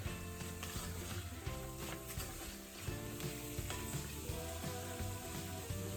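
White rice flour stirred and cooked in a soup pot for a gluten-free broccoli cheddar soup, sizzling steadily and close with scraping stirring strokes, no voices.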